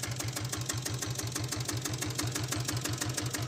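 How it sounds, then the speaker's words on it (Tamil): A Royal Enfield diesel Bullet motorcycle idles with a steady, loud, rhythmic low thump, even beats repeating quickly and close by, with no talking. "வண்டி பீட்டிங் கேளுங்க."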